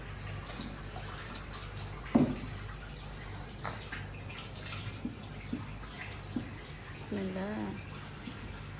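A tap runs steadily while a child's hands are washed at home, a continuous soft hiss with a few small splashes and knocks, heard under intermittent voices.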